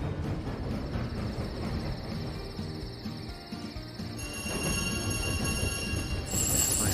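Steady rumble of a train rolling along rails in the video game Tiny Rails, with a thin high whine above it and a rising clatter toward the end.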